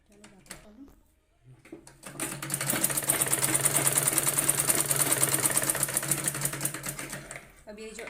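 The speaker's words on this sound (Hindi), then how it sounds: "ये कॉर्नर से लेके ये कॉर्नर तक हम सिलाई करेंगे" A sewing machine stitches blouse piping from one corner to the other, a few short starts with light clicks before settling into a steady fast whirring run of several seconds, then slowing to a stop.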